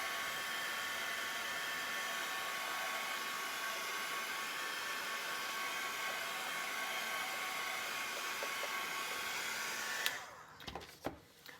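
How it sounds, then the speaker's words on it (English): A handheld air blower dries distress oxide ink on a stenciled surface. It makes a steady, loud whooshing roar for about ten seconds, then cuts off, followed by a few soft handling knocks. "I'm going to give it another little shot of air."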